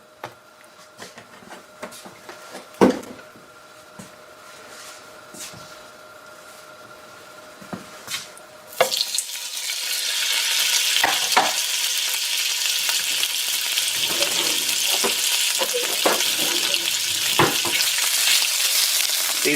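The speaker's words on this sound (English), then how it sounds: "I have a nice hot pan here, a little extra virgin olive oil" Lobster and shrimp stuffed calamari hit a hot pan of extra virgin olive oil: after a few clicks and clatters, a loud, steady sizzle starts abruptly and keeps crackling, with occasional pops.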